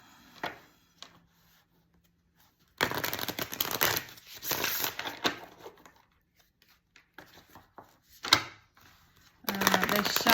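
Tarot cards are shuffled in several bursts of rapid riffling and flicking, separated by quieter stretches of light handling.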